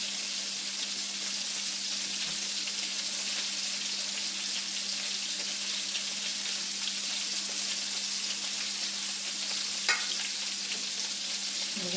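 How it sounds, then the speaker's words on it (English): Meatballs in a big batch of simmering tomato sauce being stirred gently, a steady soft bubbling hiss with faint scraping and a steady low hum throughout. "We're going to give that a gentle stir,"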